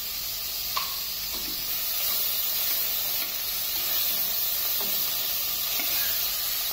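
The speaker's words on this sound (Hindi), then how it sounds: "और इसको 1 मिनट के लिए भूनेंगे।" Mixed vegetables sautéing in a pressure cooker give a steady, close sizzling hiss throughout, with a few faint clicks of stirring and no voices.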